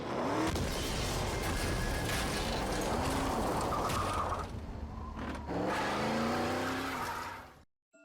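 An Aston Martin DB5 races through a driving section of the video game 007: From Russia with Love, its engine droning loudly throughout with rising revs and squealing tires, then cutting off abruptly near the end. No speech.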